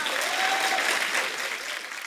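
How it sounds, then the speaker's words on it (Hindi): A TV comedy studio audience claps steadily for about two seconds, a dense wash of applause with no voices over it. "ठोको ताली, ठोको ताली।"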